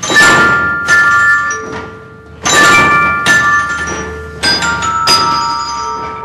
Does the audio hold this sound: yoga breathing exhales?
no